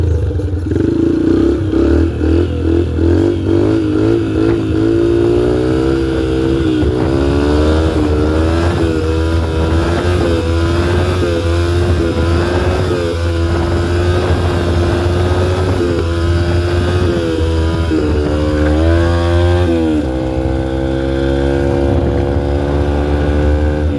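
A dirt bike engine revs loudly and close on a neighborhood street, rising and falling through repeated throttle bursts and gear changes over a constant rumbling idle, with no speech.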